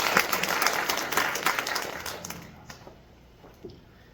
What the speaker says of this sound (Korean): 우리 감사하는 의미로 박수 드리겠습니다